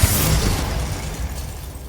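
A Confringo fire spell blast goes off in Hogwarts Legacy, a single loud booming burst that rolls into a dense, fading rumble over about two seconds.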